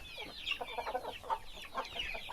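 Chicks and chickens clucking and peeping in a backyard flock, with bursts of bright chirps and short clucks overlapping in an uneven rhythm, close and fairly loud throughout.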